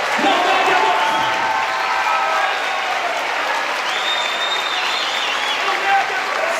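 A church congregation applauds during a worship conference, giving sustained crowd clapping with cheering and voices. Singing or amplified vocals run over it, and the whole mix sounds somewhat distant and moderately loud.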